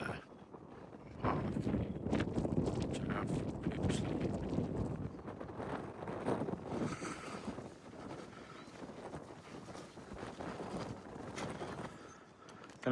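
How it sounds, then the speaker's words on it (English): Gusting wind buffets the microphone on a hill walk near a forest in the Forest of Bowland, a low, rumbling roar that swells and eases over several seconds. "It's getting a bit windy now,"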